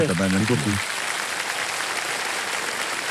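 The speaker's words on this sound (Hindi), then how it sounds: "एक बार जोरदार तालियां हो जाएगी।" A television game show studio audience (Kaun Banega Crorepati) breaks into a steady wash of applause after a brief spoken line, the clapping dense and even until the end.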